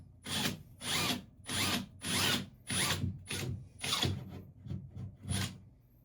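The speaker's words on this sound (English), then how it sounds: "I'm going to drill a hole with a drill bit" A power drill whirs in about eight short bursts, a drill bit biting into a wall with gritty grinding, close and fairly loud, with brief pauses between.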